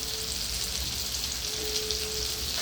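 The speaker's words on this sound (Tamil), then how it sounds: "நல்லா எண்ணெய் மேலே வதங்கி வர வர நல்லா வதக்கணும்" Ginger pickle mixture sautéing in oil, a dense, even frying hiss like fine rain, close and steady for a few seconds without stirring or voices.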